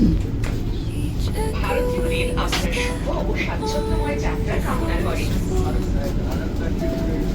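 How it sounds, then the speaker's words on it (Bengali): Continuous low rumble and rattling of a moving passenger train, with faint squeals and creaks, steady throughout. "এর মধ্যে আমরা ট্রেনে তো উঠে পড়েছি"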